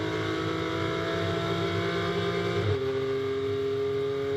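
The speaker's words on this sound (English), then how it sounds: "Tom Edgar accelerates up towards the hairpin" A GT4 race car at Hockenheim accelerates toward the hairpin, its engine a steady, loud harmonic drone that holds pitch, then drops sharply as it shifts partway through, continuing on a lower note; no talk.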